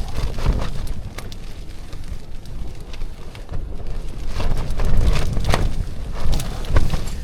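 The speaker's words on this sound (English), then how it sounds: "we've had some quite strong gusts from this wind" Strong wind buffets and roars in uneven gusts at a wild campsite, swelling and easing repeatedly with heavy low rumbling, loud and close.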